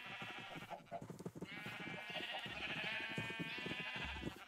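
Several sheep bleat in Minecraft, their wavering cries coming close and fairly loud one after another, one long drawn-out call overlapping the others, with no talking.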